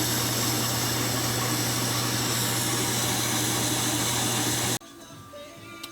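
A metal lathe takes a light second cutting pass on a rusty table roll from a Yates American J180 woodworking machine, a loud steady whirring drone with a low hum that cuts off abruptly near the end, leaving quieter shop background.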